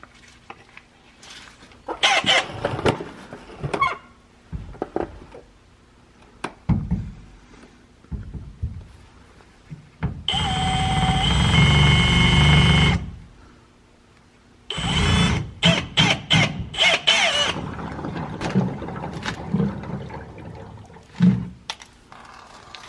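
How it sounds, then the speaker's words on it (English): A power drill bores into a truck part while installing a sump kit on an L5P Duramax, with a loud continuous whirring burst of a few seconds set between quieter clanks and handling noises. "So I'm going to take my drill right now and we'll get this drilled"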